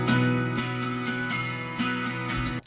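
A 12-string acoustic guitar processed with EQ, a limiter and KHS chorus strums a steady chordal pattern with regular accents, bright and shimmering, heard alone and close.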